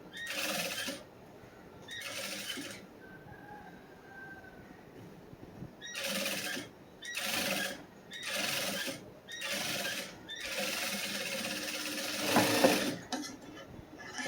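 A sewing machine stitches the back neck of a blouse in several close, whirring runs of rapid needle clatter, broken by brief quiet pauses between bursts.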